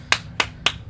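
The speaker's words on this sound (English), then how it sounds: "Round of applause." Three crisp claps in an even, brisk rhythm, close by, with nothing else audible, in the video game Aperture Desk Job.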